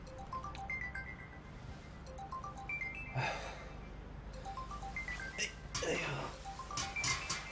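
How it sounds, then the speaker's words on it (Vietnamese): A mobile phone rings with a rising, repeating electronic tune that plays on through the scene, while people breathe and talk faintly around it. "Dương Nhất Nhất, điện thoại của cô kêu kìa"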